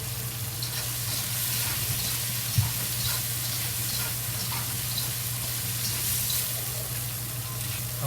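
Green beans frying in a hot wok give a loud, continuous sizzle with a steady low hum beneath and occasional light stirring clicks.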